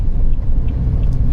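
A car drives into a road tunnel, heard as a loud, steady, low engine and road rumble that continues without a break.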